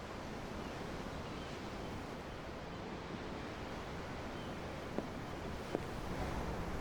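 Ocean waves rolling against a ship at sea in Tales of Arise, a continuous soft wash of surf with faint wind and a couple of tiny clicks, no one talking.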